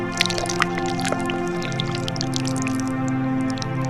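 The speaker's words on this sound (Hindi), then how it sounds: "उस कुएं से पानी निकालता है और पी लेता है।" Water drawn from a well spills and drips, a scattered patter of drops and splashes over a steady low hum, continuous and fairly loud without voices.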